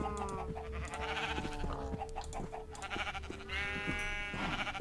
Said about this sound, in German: So, dann züchte ich noch 2 Schafe.